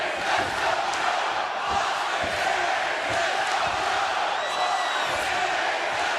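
A live wrestling crowd at TNA Slammiversary 2012 gives a mixed response, a sustained roar of shouts, chants and jeers filling the arena at moderate loudness.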